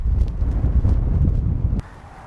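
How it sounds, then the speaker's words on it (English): Heavy wind buffets the microphone with a loud, low rumble that cuts off abruptly near the end, leaving a quieter background. "we're going to get out of the wind, so let's go on over here where it's not so windy"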